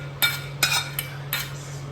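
Mushrooms and capsicum tipped into a pan for white sauce pasta, with a few sharp metallic clinks and clatters of a utensil against the pan, spaced unevenly over a low steady hum.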